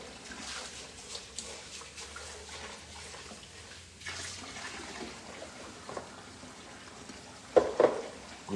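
Tap water runs steadily into a sink while vinegar-soaked turkey necks are rinsed, a soft continuous hiss close by with a few louder splashes and clatters near the end.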